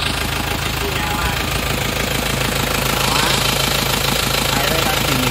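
Isuzu Panther diesel engine idling steadily up close, a continuous knocking, clattering rumble at even loudness throughout.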